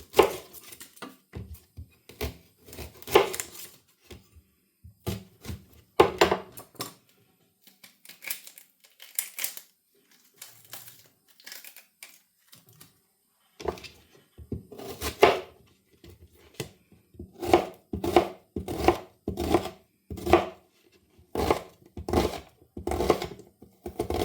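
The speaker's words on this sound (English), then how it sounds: "And slice the onion." A knife slices an onion on a chopping board while a lamb hotpot is being made, giving sharp, close taps against the board in uneven bursts and runs with brief pauses between them.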